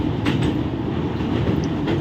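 The Duronto Express rolls across the 914-metre rail bridge over the Kuakhai river near Cuttack and Bhubaneswar, a dense, steady rumble of wheels and carriages heard close and loud from onboard without pause.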